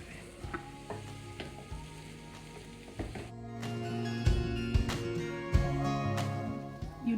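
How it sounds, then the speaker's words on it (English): Spiced mashed potato filling for aloo paratha being mixed in a bowl, with soft irregular scraping and clinking stir strokes that grow busier toward the end, fairly quiet and close. "Let's mix this all well."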